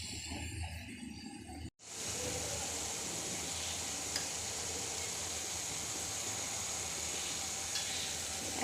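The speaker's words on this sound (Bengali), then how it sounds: "মশলা দিয়ে একটু নাড়াচাড়া করে ভালোভাবে কষিয়ে নিব।" Potatoes stir-fried with spices in a pan give a steady close sizzle and hiss after a brief break near the start, with faint stirring scrapes.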